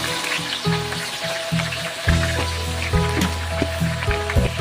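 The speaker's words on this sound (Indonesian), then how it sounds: "Goreng dengan api sedang saja sambil terus diaduk seperti ini ya, biar tidak kosong." Sliced shallots fry in hot oil over medium heat while being stirred, giving a loud, steady sizzle and crackle with bursts of spatter throughout.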